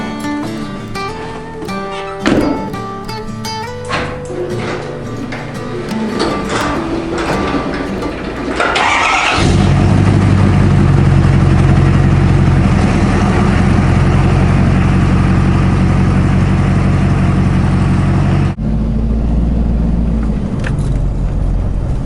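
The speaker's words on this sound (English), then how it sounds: "So let's get in the truck here and head on out." A truck engine cranks and starts, then settles into a loud, steady low rumbling idle that runs for most of the stretch, preceded by some clunks and mechanical handling noises and followed by a slight shift in the idle tone.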